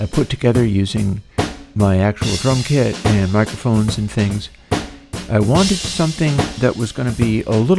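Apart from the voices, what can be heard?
No everyday noises stand out.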